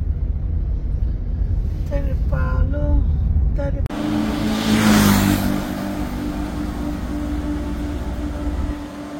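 Car driving onto the Padma Bridge, its steady road rumble and engine drone continuing throughout while people talk inside the vehicle over the first few seconds.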